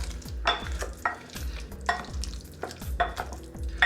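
A spoon stirs mashed banana into guacamole in a bowl, giving repeated soft, wet squelching and scraping strokes with sharp clicks of the spoon against the bowl, close and fairly loud, with no talking.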